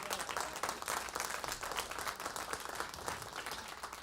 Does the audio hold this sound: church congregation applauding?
yes